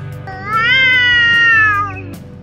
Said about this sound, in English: unneutered male cats have their own unique mating call,